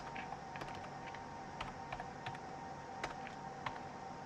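Computer keyboard keys tapped in a steady run of light clicks while a command is entered for a Ruckus ICX network switch, close but faint over a constant fan hum.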